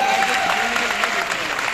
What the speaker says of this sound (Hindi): एक बार जबरदस्त तालियां उनको भी देना चाहूंगा दोस्तों